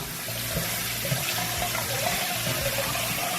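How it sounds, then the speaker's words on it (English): A kitchen tap runs into a sink while a straw brush is rinsed under it, a steady close splashing rush with small irregular surges and no speech. "You can rinse it off."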